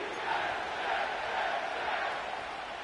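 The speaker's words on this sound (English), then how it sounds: "The crowd is definitely ready." A stadium crowd roars steadily in an EA Sports football video game at MetLife Stadium, a dense, continuous wash of cheering that swells and holds without a break.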